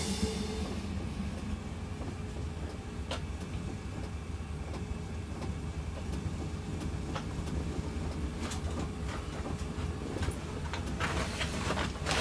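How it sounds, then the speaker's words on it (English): A train in Train Simulator 2018 rolls along with a continuous rumble and faint rhythmic clatter from the rails, steady and moderately quiet throughout. "there's 239 people trying to drive the train, Chris."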